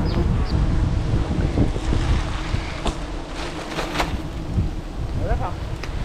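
Wind buffeting outdoors at a set of beehives, a steady rushing gust with rumbling microphone noise throughout, while someone talks over it and a few faint clicks and handling sounds break in.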